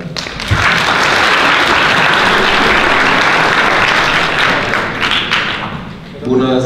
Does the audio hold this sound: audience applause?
yes